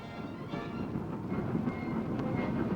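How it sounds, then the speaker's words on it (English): Wagon retarders work in the Temple Mills railway marshalling yard, a continuous rumbling clatter of rolling freight wagons with faint high squeals rising through it, heard at a moderate distance. "including wagon retarders at work."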